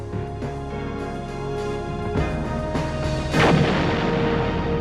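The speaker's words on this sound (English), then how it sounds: "With two deafening, flaming, reverberating explosions, the Maine blew to pieces." Deep rumbling booms of the battleship Maine blowing apart, rendered as heavy, reverberating explosion blasts that build over steady low-end noise, the second blast louder and more dramatic near the end.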